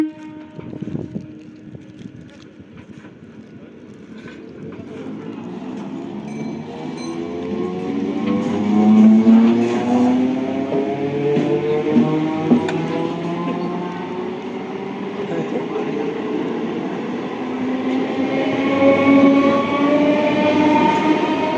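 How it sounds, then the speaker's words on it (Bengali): A Burdwan chord local EMU train rolls into platform 3 at Sibaichandi station, its loud rumble building over about twenty seconds into a drawn-out, steadily rising mechanical whine with no voices. "এখনই একটা এই 3 নম্বরে একটা লোকাল আসছে"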